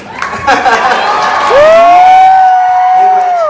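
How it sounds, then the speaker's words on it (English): A crowd at a high-end fashion show cheers and applauds, with shouts and whoops over the clapping and a long sustained whistle or call rising above the noise. "Can we give all of our sponsors, our partners, and our volunteers a big, real rank, deadly round of applause?"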